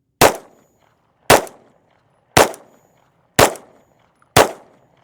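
Five pistol shots with 115-grain rounds at a 7-yard range, each a sharp, loud crack with a short decaying tail, evenly spaced about one second apart, with no talking.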